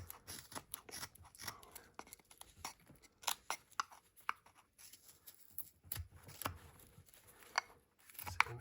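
A carving knife shaving into wood while shaping a small Santa figure: a steady run of quiet, scratchy slicing strokes and soft clicks, close up and irregularly spaced.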